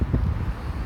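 Wind buffeting an outdoor microphone at a muzzleloader shooting site, low rumbling gusts that thump unevenly through a short burst, close and moderately loud, with no speech.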